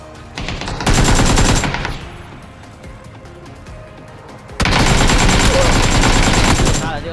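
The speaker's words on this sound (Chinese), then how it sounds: "机枪" A machine gun firing in the video game PUBG, two long loud sustained bursts of rapid automatic fire separated by a quieter gap with faint game sounds.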